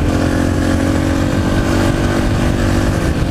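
A Yamaha TTR 125 trail motorcycle runs hard while being ridden on a trail, its engine a loud, continuous, close droning roar with wind rush filling the whole stretch and no speech.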